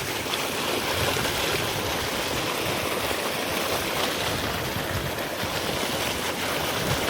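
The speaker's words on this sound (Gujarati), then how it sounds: "આમ જો પાણી કેવું આવે." Water rushes steadily through a farm irrigation channel fed by a buried line, a constant close gushing flow with no pauses and no speech.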